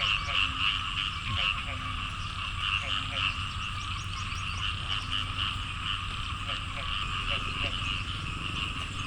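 A dense chorus of frogs croaking continuously at a morning market in Khammouane, Laos, with repeated rhythmic calls layered over a steady trilling background of insects, fairly close and loud throughout.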